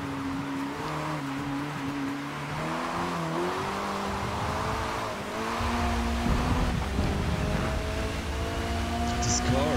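A race car's engine in Forza Motorsport revs and climbs through long gears on a slippery track, its tone rising steadily, with a player talking over the loud, continuous drone.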